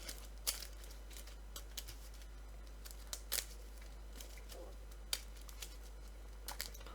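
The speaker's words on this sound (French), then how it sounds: "Alors, on va les remélanger." Cards from the Dark Souls card game being reshuffled, a sparse series of soft, quick riffles and snaps at a quiet level, with short gaps between them and no talk.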